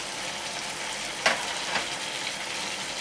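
Tawa chicken fries on high flame on a flat griddle, a steady close hiss of sizzling oil running throughout, with a sharp clink near the middle and a softer knock shortly after.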